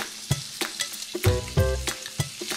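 Bacon frying in a pan until crispy, a loud close sizzle broken by sharp popping spatters and stirring clatter, with no voices over it.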